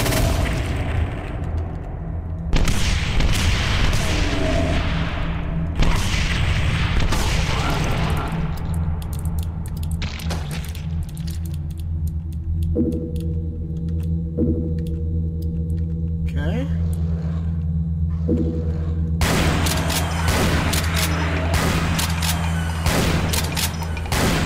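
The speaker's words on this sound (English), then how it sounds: "there goes like 100 bullets" Gunfire from the video game Brutal Doom 64 comes in long dense bursts of rapid shots and booms, with a steady low hum and brief quieter gaps between volleys.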